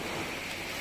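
Thunder rumbles at a beach as a dense, steady roar with no breaks across the short stretch, fairly loud and with no voices over it.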